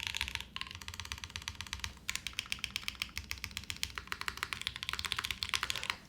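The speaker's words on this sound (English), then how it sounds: "The spacebar sound though, even with that tab, is not bad." Typing on a Wind Z75 mechanical keyboard produces a fast, steady patter of close, crisp keystrokes with the spacebar's deeper thock mixed in, continuous and unaccompanied by voices.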